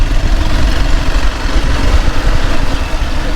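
A motorcycle engine drones steadily while riding along a forest road toward Garbhanga, a loud, close, continuous rumble with no talk.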